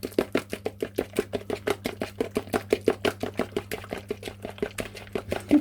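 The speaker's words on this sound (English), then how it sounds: "I'll give that a mix." Banana, honey and peanut butter bread batter being mixed in a bowl. It gives a quick, even run of loud knocking strokes, about four a second, with no talking.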